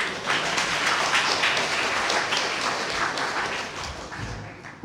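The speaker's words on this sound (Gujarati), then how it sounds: "આપણે તાળીઓથી વધારી દઈએ" An audience breaks into applause at a children's book discussion event. Many hands clap steadily and densely for several seconds, fairly loud and close, then ease off slightly toward the end, with no voices.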